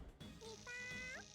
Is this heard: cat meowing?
yes